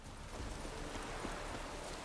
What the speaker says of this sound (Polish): mógłby ten deszcz przestać padać, na serio